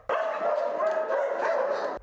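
Dogs at an animal shelter in winter bark and yip together in a dense, continuous chorus lasting about two seconds, loud and close.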